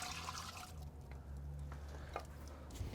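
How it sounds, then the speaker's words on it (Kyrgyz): Cream and water sauce pours into an Afghan kazan over fried meat, a soft steady liquid stream and splash at moderate distance, with a few small drips and clinks near the end. "Ошентип каймак менен суу аралашкан соусту кошобуз."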